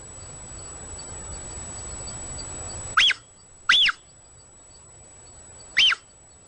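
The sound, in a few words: puma chirping calls, happy communication sound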